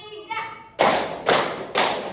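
Children in a counting clap game give three sharp, close claps in an even rhythm, each ringing out briefly, after a short burst of a voice.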